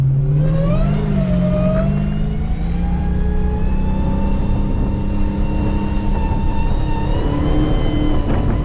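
An SRT Hellcat's supercharged engine revs hard and holds a loud, rising whine with a deep rumble as the car drifts on a rain-soaked road on bald tires, heard from inside the cabin.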